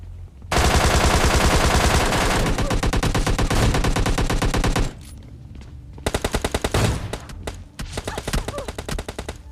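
Rapid automatic gunfire in the battle royale game PUBG, a long loud continuous burst, then a pause and a second run of rhythmic shots, with no talking over it.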